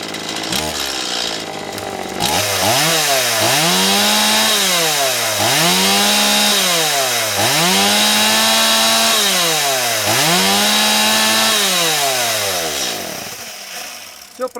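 A repaired Stihl 180 chainsaw engine runs loud and close, revving up and down in a steady repeating rhythm of rising and falling throttle over a rough idle.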